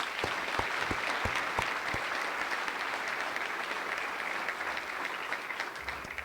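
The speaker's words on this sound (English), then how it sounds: "I think that deserves a round of applause." A room full of people claps in a sustained round of applause at a spring general assembly, dense and steady, fading slightly toward the end.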